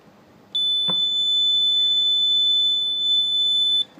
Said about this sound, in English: And what we can do is check this for continuity.